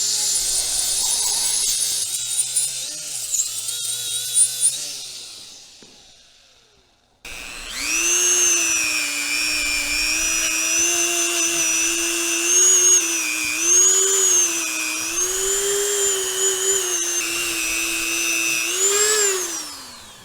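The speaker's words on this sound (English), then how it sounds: "I'm gonna go ahead and start cleaning these surfaces on the head." A high-pitched power tool, like a small rotary grinder or drill, whines steadily as it cleans the surfaces of an Onan engine cylinder head. Its pitch wavers with load, stops briefly, then runs on again, close and loud.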